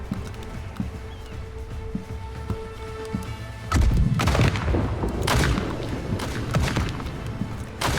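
Heavy booming blasts of ship cannon fire in the naval battle game Blackwake, a deep explosive hit around the middle followed by rumbling, crackling battle noise, loud and close.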